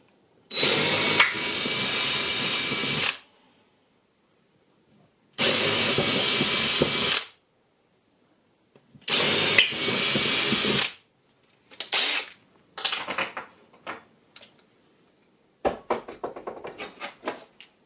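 A power drill bores a fairly large hole in three loud, sustained bursts of about two seconds each, separated by silence, followed by shorter irregular bursts and clattering handling noises.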